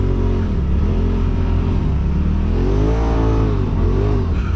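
A Polaris RZR off-road vehicle's engine drones loud and close, its pitch climbing and dipping as it accelerates and rides through a group on a trail, with no voices over it.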